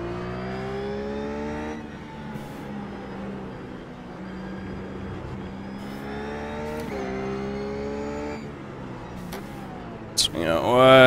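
RUF GT3 race car engine in the iRacing video game at the Nurburgring Grand Prix circuit, droning steadily with rising and falling revs and gear changes, then a sharp high-revving burst near the end, under a voice talking.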